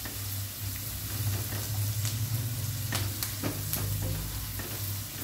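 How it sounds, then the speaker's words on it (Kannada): Garlic and cumin fry in a pan with a dense, continuous sizzle up close, broken by a few brief scrapes of a stirring utensil. "ಒಂದು 2 ನಿಮಿಷ ಫ್ರೈ ಆಗಲಿ"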